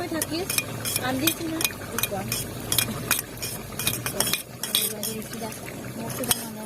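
Utensils clink and scrape in a bowl as green chili, red chili and tomato sauces are stirred together, with steady scraping strokes and sharp taps throughout, fairly close, with no talking.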